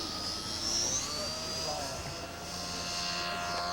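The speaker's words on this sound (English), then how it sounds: "diving down for a flyby" Scale model airplane, about ten years old, diving down for a flyby at an outdoor scale aircraft show, its engine a steady, fairly loud whine with a brief rising tone and a faint doppler shift as it passes.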